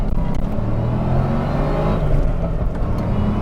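A supercharged 2003 Ford Mustang SVT Cobra launches hard, its engine a loud, steady, close roar with a deep rumble and rising whir as it accelerates throughout, with no talk.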